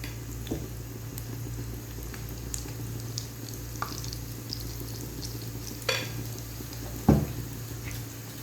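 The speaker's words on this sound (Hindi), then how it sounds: "कढ़ाई में ऑयल गरम हो चुका है, तब मैं इसके अंदर पकोड़े तल लेती हूँ, फ्राई कर लेती हूँ।" Pakoras fry in hot oil in a kadhai, giving a steady close sizzle throughout, with occasional scrapes and clinks of a spoon stirring and a sharper knock near the end.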